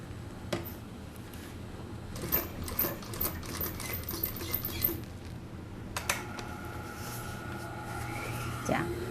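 A sewing machine stitches a shirt hem in short bursts of whirring, with clicks and fabric handling between runs and an instructor speaking over the work.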